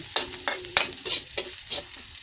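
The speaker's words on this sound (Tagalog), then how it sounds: "unang ricados na ilalagay natin ay ang garlic. Hintayin natin na medyo mag-brown na siya." Minced garlic frying in a pan, a steady close sizzle broken by several sharp scraping stirs of a spatula, with no talking.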